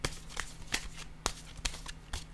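Playing cards are handled and shuffled close by, with sharp papery flicks and riffles in an uneven rhythm against a quiet background and no speech.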